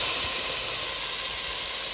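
Onions and green peppers frying in oil in a pot, a steady, close hiss of sizzling with no pauses or voices over it.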